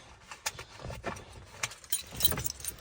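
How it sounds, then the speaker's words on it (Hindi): Keys jangle in a series of bright, close metallic clinks and rattles while being inserted into the ignition of a 2009 Maruti WagonR LXI, quiet with irregular bursts. "चाबी लगाते हैं"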